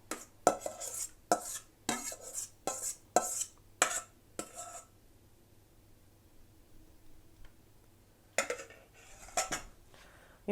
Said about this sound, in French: On ajoute les carottes et les oignons